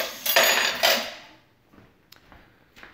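A stirred container set down in a sink, a brief clattering of hard dish-like contact with a metallic ring, followed by a few small faint clinks, close and without talk.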